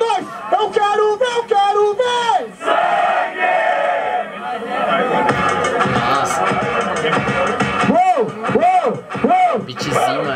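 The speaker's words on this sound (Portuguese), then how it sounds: "Barulho pras rimas do Rafael" A loud crowd at a Brazilian rap battle shouts and cheers continuously, with voices rising in excited bursts throughout.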